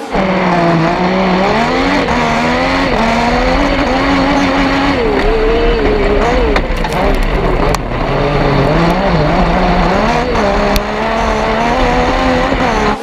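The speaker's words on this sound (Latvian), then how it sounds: "Noslēgumā kroskāri uz starta." Several autocross crosskart race cars roar off the start line together in a final heat, loud high-revving engines sustained and overlapping throughout, close by, with no talk.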